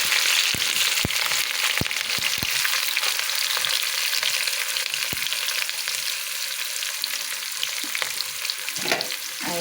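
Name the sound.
frying ginger, garlic, green chilli and onion in oil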